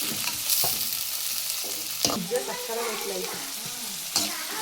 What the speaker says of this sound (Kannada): ಒಂದು ದೊಡ್ಡ ಈರುಳ್ಳಿ 2 ಕಟ್ ಮಾಡಿ ಇಟ್ಕೊಂಡಿದ್ದೆ, ಅದನ್ನು ಹಾಕ್ಕೊಳ್ತಾ ಇದ್ದೀನಿ